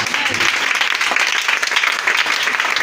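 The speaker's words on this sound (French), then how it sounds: "Est-ce que tu peux acclamer cette parole?" Congregation applauding in a church service after a Bible reading, dense sustained clapping filling the room with no gaps, loud and steady throughout.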